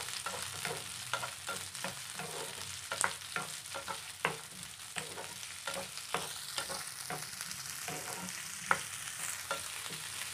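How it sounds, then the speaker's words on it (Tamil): Onion, ginger and garlic fry in hot oil for a Tamil cabbage kurma, a steady close sizzle broken by repeated scraping stirs of a spoon against the pan, with no talk. "இது ஒரு கொஞ்ச நேரம் எண்ணெயில் வதக்கட்டும்"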